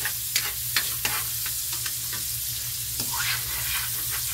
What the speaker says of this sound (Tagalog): tumatalsik ang mantika